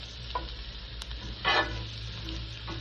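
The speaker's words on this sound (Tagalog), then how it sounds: "Ingani ko magluto og sisig." Chicken sisig sizzles in a pan, a constant crackling fry with a brief louder burst of spitting oil and light stirring clicks, heard alone without voices.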